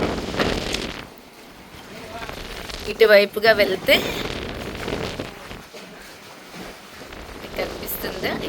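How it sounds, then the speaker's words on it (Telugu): Sea waves splash and wash against the shore where a boat is moored, with a steady, close, rushing surge and gusty wind on the microphone, under intermittent talk. "ఇక్కడ మేము నిల్చుకుంటే మా కాళ్ళకి సముద్రపు నీళ్ళు ఎగురుతూ ఉన్నాయి."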